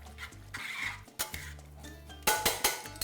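Ingredients stirred together in a pan while cooking veal escalopes Milanese, with a spoon clinking and scraping against the pan in several separate strokes, close and clear, with light sizzling.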